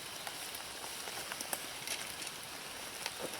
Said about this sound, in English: It's not raining as much